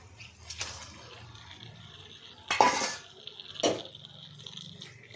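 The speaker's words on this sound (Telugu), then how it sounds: "ఇప్పుడు ఇందులో చికెన్ యాడ్ చేస్తున్నా" Chicken pieces stirred into a fried onion masala paste in a pot, with two distinct scraping clanks of a spoon against metal over a quiet kitchen background.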